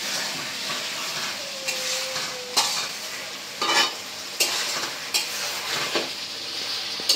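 Meat and potatoes stir-fried with spices in a pan, steady soft sizzle with repeated scraping stirs of a spoon against the pot.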